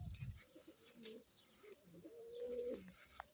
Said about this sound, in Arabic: هي رجع الحمام خلاص